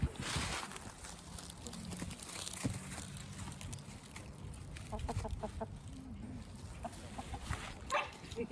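Liege fighter hens cluck softly and intermittently amid outdoor background noise, with a few short calls scattered throughout.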